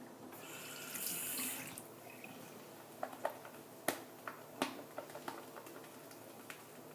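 Water running from a tap during a traditional Turkish shave to loosen shaving lather, with a short hissing flow at the start followed by scattered sharp taps and clicks.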